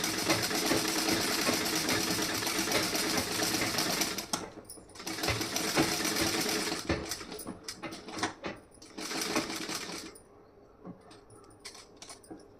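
A sewing machine stitches about half an inch of fabric in sustained mechanical runs, pausing and restarting in several bursts that grow shorter and sparser toward the end, close and fairly loud with no talking.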